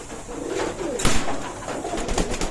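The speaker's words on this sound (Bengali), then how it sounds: "চমৎকার ব্লাড লাইনের কবুতর অসাধারণ কবুতর" Teddy pigeons in a loft coo close by, a few soft throaty calls over a busy background of rustling and other birds, with no talk.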